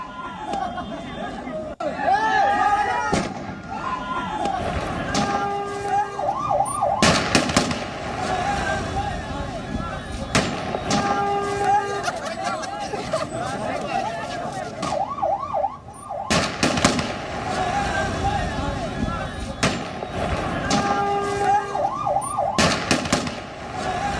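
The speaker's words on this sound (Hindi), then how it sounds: "तभी तालिबानी आतंकी ने लोगों पर फायरिंग कर दी।" Gunshots ring out at Kabul airport as crowds of Afghan civilians try to get inside: several loud, sharp cracks, some in quick clusters, cut through a constant din of crowd chatter and a wailing siren-like tone.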